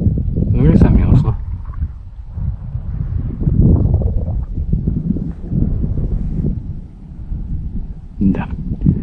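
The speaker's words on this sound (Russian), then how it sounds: "ветер крепчает." Strengthening gusty wind by a high-water river buffets the microphone with a low, roaring rumble that rises and falls throughout, with brief sharper noises near the start and end.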